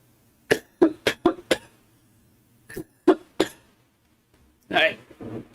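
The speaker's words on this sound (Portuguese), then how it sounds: "Dá tosse mesmo quando você para." A person coughs in a quick burst of several hacking coughs, pauses, coughs a few more times, then gives a longer throaty cough, close and clear with no talk.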